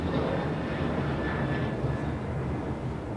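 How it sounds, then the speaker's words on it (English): A United Airlines Boeing 737-900ER takes off from LAX for Kailua-Kona, producing a continuous, fairly loud jet roar with a gentle swell partway through. "2373 taking off to Kailua, Kona on a 737-900ER"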